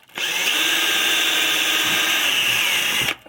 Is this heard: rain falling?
no